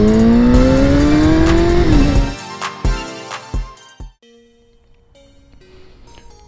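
A 2006 Suzuki GSX-R 1000 sportbike accelerates hard, its engine note climbing steadily in pitch for about two seconds before a gear change, followed by a few sharp bursts and blips that fade into a quieter idle.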